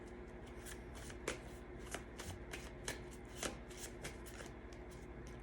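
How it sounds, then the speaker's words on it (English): Tarot cards shuffled by hand, a steady papery riffle with periodic sharper snaps as the deck is squared or bridged, close and clear, with no talking. "Shuffle these cards up a little bit."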